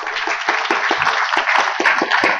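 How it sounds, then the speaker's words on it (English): A small audience at a drones panel event claps for the panelists, a close, lively patter of individual hand claps with a brisk uneven rhythm, heard alone. "give a warm welcome and an applause to our panelists."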